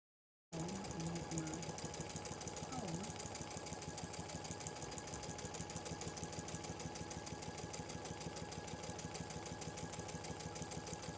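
A Baby Lock Chorus sewing machine stitches a one-step buttonhole with a steady, rapid mechanical whir and a fast stitching rhythm that runs unbroken after a sudden start. A voice speaks briefly near the beginning.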